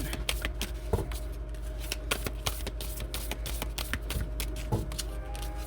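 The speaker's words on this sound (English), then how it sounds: "so I tend to get a little wild with my shuffling" A deck of tarot cards is shuffled vigorously and rapidly, with a steady stream of crisp riffling and tapping close by, no voices.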